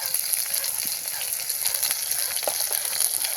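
Chopped onion and green chillies frying with garlic cloves in a pan crackle with a steady, bright sizzle, close up, with faint stirring pops and no voices.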